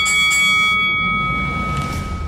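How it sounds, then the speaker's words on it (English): A bell rung as a sound effect during a futures market Q&A show, a bright, sustained ring with pure tones that decays slowly and evenly over about two seconds. "Ring the bell."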